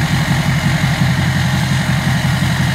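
A diesel Chevy truck engine idles steadily and loudly up close, with a throbbing low rumble that pulses evenly throughout and no voices over it.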